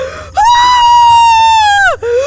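A woman's scream of distress and grief in a dramatised folk story, one long sustained high wail rising and holding before breaking off, loud and close with no talk over it.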